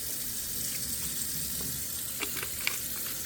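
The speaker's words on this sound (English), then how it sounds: "Now we're going to let this fill up" Hot water runs steadily from a tap into a container being filled for a bleach soak, a constant hissing rush with a few faint splashes and clinks near the end.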